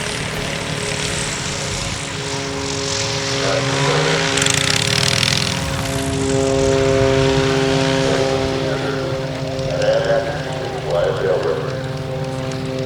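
A small, cheap-to-run ultralight aircraft burning about two gallons an hour idles with a steady droning engine and propeller hum, constant and close throughout, with someone talking over it.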